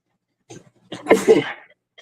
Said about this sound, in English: I felt that sneeze coming and try to keep it from going